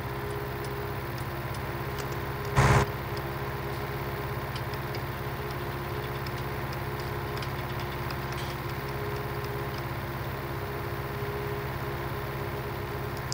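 A tractor engine idles steadily in the video game Farming Simulator 2019, a constant mid-pitched hum lasting throughout, broken by one brief louder click or knock near the start, with no talk.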